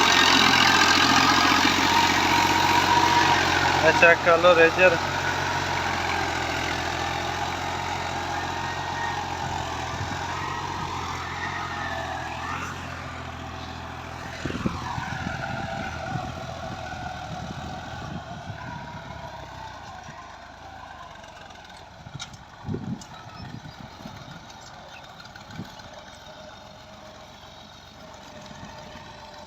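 A Ghazi tractor idles steadily near a cotton field, its engine running as a continuous even drone that slowly fades, with a brief spoken remark early on and a few knocks.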